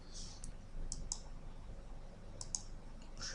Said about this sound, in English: So I'm going to click on that one.